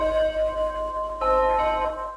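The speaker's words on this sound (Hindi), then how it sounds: "एक बार घंटी सुन लूं मैं" A bell rings in a live online maths class, sustained ringing tones holding steadily for a couple of seconds, fairly loud and alone without talk.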